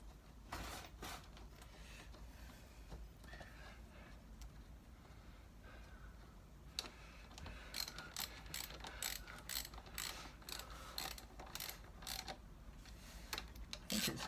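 Ratchet tightening a 12mm bolt on the front forks of a Yamaha MT07 motorcycle, a series of quiet close clicking bursts, sparse at first and then quickening into repeated rapid ratcheting strokes.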